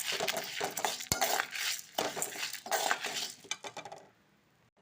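A utensil scrapes and clinks against a pan in quick irregular strokes over soft sizzling as cinnamon, chillies and tamarind are stirred, the stirring fading away near the end.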